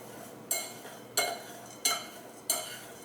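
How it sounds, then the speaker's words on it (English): Salad ingredients with seasoning being tossed in a bowl with a utensil, four evenly spaced scraping, clinking strokes, close and fairly quiet, with no talking. "we're going to mix all this up together"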